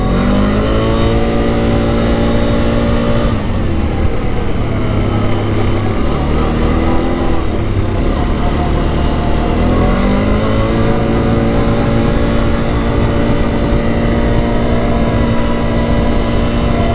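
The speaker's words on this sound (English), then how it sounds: "Cruising 40 miles an hour right there." Quad ATV engine revving loudly and continuously while riding at around 40 mph on trails in Idaho, with rising and falling pitch as the throttle changes and the rear end drifts.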